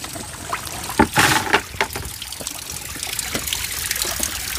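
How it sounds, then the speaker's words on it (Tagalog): Water trickles weakly from a roof gutter in a rainy forest setting, a steady thin dribble with a few louder splashes early on, close by. "Mahina yung daloy ng tubig sa alulod."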